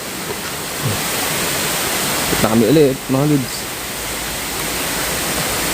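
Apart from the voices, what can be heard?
waterfall at Camp Payapa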